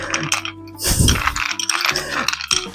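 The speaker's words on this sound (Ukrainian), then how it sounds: "Добавляємо лід." Ice cubes dropped into a cocktail glass for a rum, milk and coffee-liqueur drink, giving a loud cluster of clattering knocks near the one-second mark followed by lighter scattered clinks.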